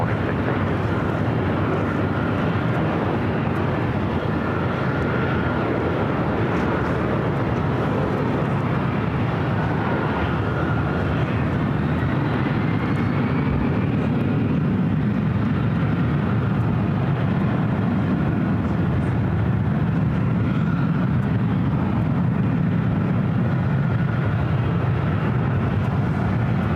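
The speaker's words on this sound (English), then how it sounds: "That was WestJet coming in from Vancouver, flight 1698" A WestJet Boeing 737-800 arriving from Vancouver lands at LAX, producing a steady roar of jet engines that holds at a constant level and lasts throughout, with no speech over it.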